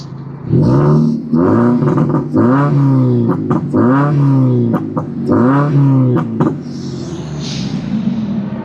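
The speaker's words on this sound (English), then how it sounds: "This is a comparison for the revving after it's been thrown in." A car engine, treated with fuel system cleaner, is revved hard in a series of sharp, rising blips, about seven bursts in quick rhythm, then falls back to a quieter idle.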